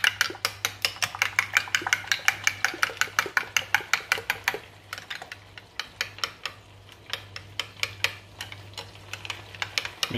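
Seasoned ground beef being stirred and mixed in a bowl, a steady run of close, crisp clicking strokes with a brief pause midway before the rhythm resumes, over a low background hum.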